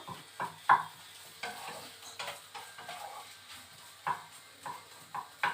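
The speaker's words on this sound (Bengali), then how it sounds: "এখন রান্না বসিয়ে দিয়েছি।" Food cooking in a pan, with soft intermittent scraping and clinks of a spatula stirring over a faint steady sizzle, quiet and close.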